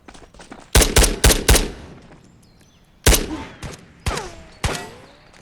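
Gunfire in the video game Ghosts of Tabor: a quick burst of four sharp shots, then further single loud cracks spaced apart, fairly close and with no talk.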